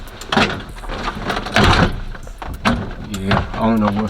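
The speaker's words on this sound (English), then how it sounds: "Try to shut the door." Driver door of a Cutlass with new window sweeps and tight weather stripping is pushed shut in a few attempts, giving dull thuds and rattles amid close talking.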